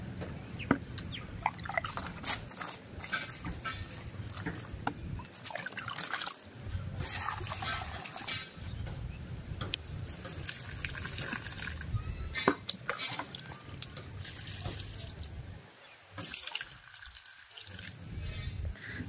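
Water is poured onto flowering garden plants, roses among them, in a village vegetable plot, making a steady close splashing and trickling that runs almost without a break, with brief pauses near the end.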